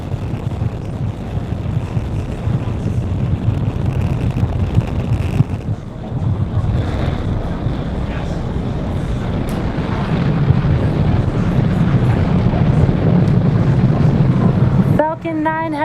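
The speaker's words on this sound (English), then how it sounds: "Falcon 9 has successfully lifted off from Space Launch Complex 40, carrying our 53 Starlink satellites" A SpaceX Falcon 9 rocket carrying Starlink satellites lifts off from Space Launch Complex 40, a steady, loud broadband roar with wind buffeting that holds throughout and builds slightly toward the end.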